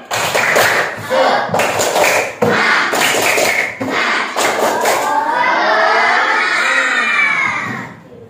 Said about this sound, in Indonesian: mari kita ada tepuk semangat